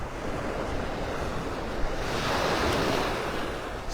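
Surf rolls onto Vanderbilt Beach in North Naples, Florida, as a steady broad wash of breaking waves mixed with wind rumble on the microphone, continuous and fairly close, with no voices.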